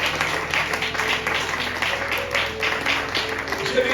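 Church congregation applauding during a sermon, a sustained wash of many hands clapping at moderate loudness, with voices mixed in beneath.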